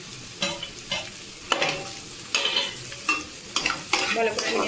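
A spatula scrapes and tosses fried ingredients with Maggi noodles in a pan over high flame, making repeated close scraping strokes about once a second over a soft sizzle.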